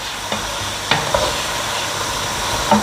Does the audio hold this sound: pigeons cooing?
no